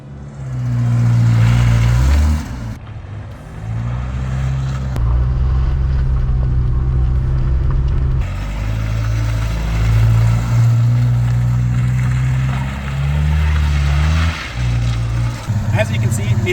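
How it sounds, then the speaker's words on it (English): A 4-cylinder Fox-body car tries to drift, its engine droning loud and close, revving up and down in several pulls, with a brief lull between them. "the following clip contains the worst attempt at drifting you have ever, or will ever see"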